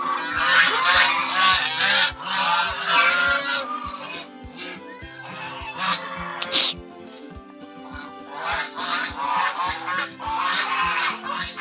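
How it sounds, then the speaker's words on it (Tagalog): Farm ducks quacking loudly and noisily in overlapping bursts, close by, with a rhythmic low thumping underneath and brief pauses between flurries of calls. "Ingay ng mga itik."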